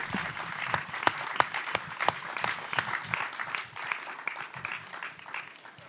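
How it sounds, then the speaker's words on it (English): An audience at a history book talk claps for the guest, a lively burst of sharp, scattered hand claps that thins and fades toward the end. "can we have a loud round of applause, please, for the great Professor Peter Frankopan?"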